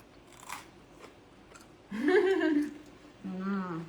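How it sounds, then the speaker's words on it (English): Bites into the crunchy crumb topping of a four-cheese pasta bake, with a few faint crisp crunches and chewing heard close up while people talk over them. "I'm gonna start with a nice crunchy bit. I know, the crumb is so crunchy."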